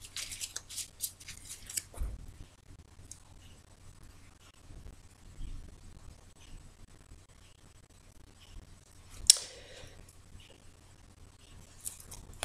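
Tarot cards are shuffled and cut by hand, giving soft papery riffles and quiet snapping flicks, close and faint in a quiet room, with a sharper card slap near the end.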